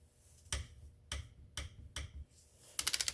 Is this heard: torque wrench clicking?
yes